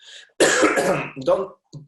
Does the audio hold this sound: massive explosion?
no